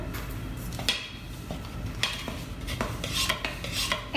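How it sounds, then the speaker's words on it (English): A spoon stirs flour, salt and Kool-Aid powder in a big bowl for homemade play dough, making repeated close scraping and clinking strokes in an uneven rhythm. "Kool-Aid, and then you're going to give it a stir."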